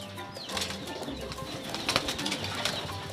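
Pigeons in a breeder's loft, with soft cooing and bursts of wing flapping at close range, plus scattered chirps and rustling throughout.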